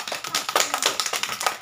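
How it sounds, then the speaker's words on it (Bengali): Quick, sharp clapping bursts at a children's village game, a steady patter of hand claps in close succession with no talk over them. "এটি বড় হাততালি।"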